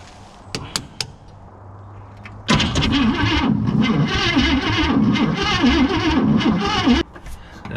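Starter cranking the engine of an abandoned 1959 AMC Rambler Ambassador, with a few sharp clicks first, then about four and a half seconds of loud, close, steady rhythmic churning that cuts off abruptly, with no catch.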